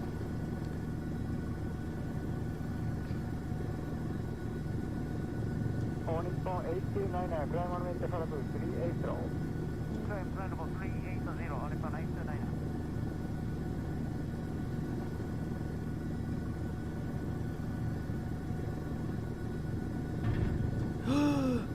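An Airbus H125 helicopter hovers in Microsoft Flight Simulator, giving a steady droning rotor-and-turbine rumble with a constant hum throughout, while brief voice-like chirps surface in the middle.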